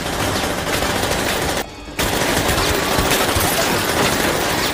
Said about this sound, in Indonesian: Dia menembaki anak buah Herman hingga tersungkur satu persatu.